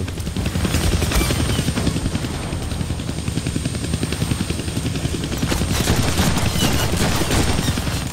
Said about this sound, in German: Den Helikopter verängstigen.